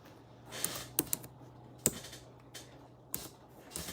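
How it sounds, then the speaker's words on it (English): A computer keyboard being typed on in a quiet room: a few sparse, faint key clicks in an irregular rhythm over a low steady hum. "Let me type this word in, y'all."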